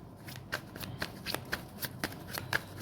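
Tarot cards being shuffled by hand in a brief, close burst of rapid riffling and flicking, a crisp papery patter with no voices.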